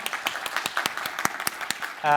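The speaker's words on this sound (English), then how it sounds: "Round of applause for Benjamin." Scattered hand claps from a debate audience, a sparse round of applause with distinct individual claps rather than a dense roar, moderately close, ending as a voice begins to speak.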